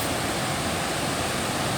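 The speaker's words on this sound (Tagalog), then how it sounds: "lakas ng alon, grabe" Strong ocean waves surge at Tangos Island in Dinadyawan, Dipaculao, a loud, unbroken roar of surf that stays steady and close for the brief moment.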